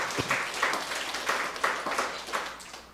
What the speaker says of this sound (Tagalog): Kaya palakpak po sa Panginoon.